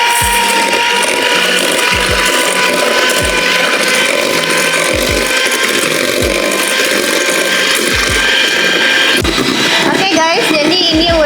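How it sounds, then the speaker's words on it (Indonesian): Electric mixer running continuously through cake batter for a devil chocolate cake, a steady whirring drone with rhythmic low thumps as the beaters knock the bowl, under someone speaking. "Ini kita mixer."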